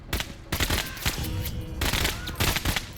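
Sustained gunfire from a MENACE tactical strategy game, with dense bursts of machine-gun and rifle shots crackling in waves for three seconds and no voices.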